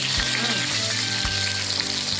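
Steady sizzling and bubbling of chicken curry cooking in a pan, continuous and close, with a few soft stirring knocks.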